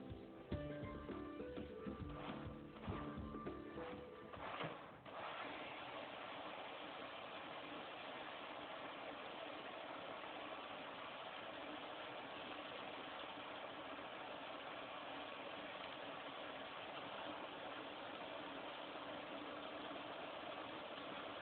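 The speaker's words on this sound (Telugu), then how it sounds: "ఇది ఆటోమేటిక్ పర్ల్ వైండింగ్ మిషన్ అంటే కండలు చుట్టే మిషను" An automatic pirn winding machine spinning thread onto spindles makes a steady mechanical hum and whir, close and continuous, with a rougher rattling stretch in the first few seconds before it settles into an even drone.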